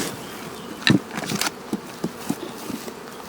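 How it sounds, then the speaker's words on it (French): Swarm of honey bees being shaken into a hive, a dense continuous buzzing with a sharp knock and several smaller taps and thumps. "il y a un paquet d'abeilles"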